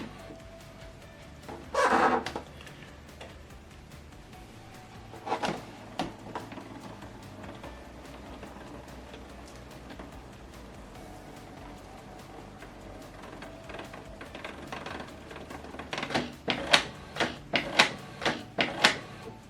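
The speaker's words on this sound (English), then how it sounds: "then give the printer time to set." A Canon PIXMA MG2551S inkjet printer initializing after an ink cartridge install makes faint mechanical whirs and clicks: a short burst early, another around midway, then a run of quick clattering ticks near the end.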